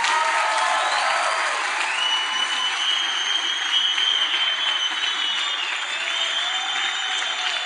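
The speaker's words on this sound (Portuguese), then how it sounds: "Dá uma salva de palmas de Jesus." A church congregation applauds during a worship service: dense, sustained clapping at close range that holds steady for the whole stretch, with a few faint shouts mixed in.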